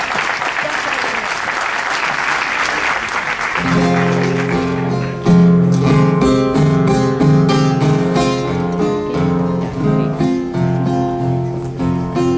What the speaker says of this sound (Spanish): Quiero pedir un gran aplauso